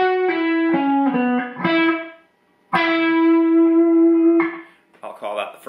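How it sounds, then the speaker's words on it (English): Electric guitar with effects, including distortion and echo, plays a harmonized solo lick in the lower harmony, a run of quick picked notes followed by a long sustained note, a pause, and another held tone. "First lick and lick number two of the harmonized solo will sound like this."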